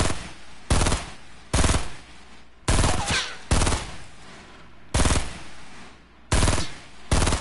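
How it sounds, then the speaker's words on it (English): Bursts of automatic gunfire in Fortnite come in six or seven loud, sharp volleys, each a second or so long, separated by short quiet gaps, with no talking. "I'm shooting at him."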